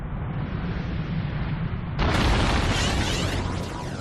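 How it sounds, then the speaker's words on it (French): A deep, sustained rumble swells suddenly into a louder, broader roar that keeps going, like a massive distant explosion and its lingering blast: an airburst over remote Siberian forest. "une explosion retentit au-dessus de la lointaine forêt sibérienne"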